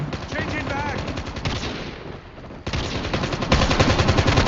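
M4 rifle fire in Call of Duty Mobile, loud rapid automatic bursts close by, pausing briefly before resuming with a heavier stretch of shooting.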